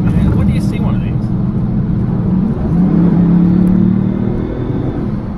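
A Bugatti Veyron supercar from the 2000s drives on a road, producing a loud, deep engine rumble that swells a little partway through, with a voice heard talking faintly alongside.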